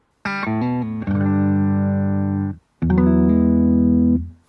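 A bright electronic startup chime from a Bluetooth speaker plays two sustained, buzzy tonal chords, the second after a short gap, with no talking.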